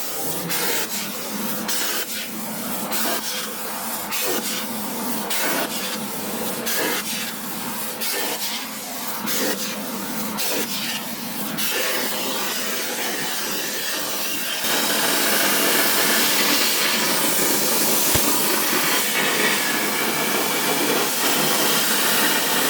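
A plasma table cuts out a metal box part with a continuous loud hiss and spray, rhythmic pulses in the first half, then a steadier, brighter hiss toward the end.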